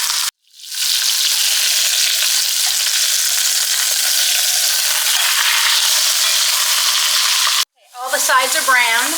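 Trimmed meat browns in a frying pan with a strong, even sizzle that runs almost unbroken, cutting out briefly near the start and the end, where a faint warbling sound comes through.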